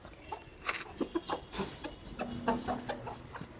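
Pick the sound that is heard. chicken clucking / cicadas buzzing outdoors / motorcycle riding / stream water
chicken clucking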